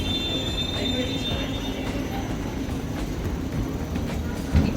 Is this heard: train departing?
yes